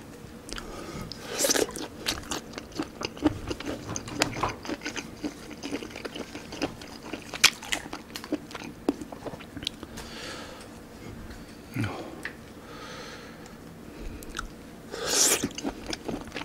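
Close, dense chewing and crunching of horned turban sea snail in a quiet mukbang ASMR setting, with wet bites, steady mastication and a few louder crunchy bursts, no talking.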